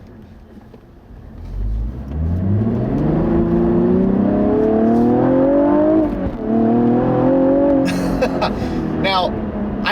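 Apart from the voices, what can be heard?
2016 Cadillac ATS-V 6-speed accelerating with no-lift shift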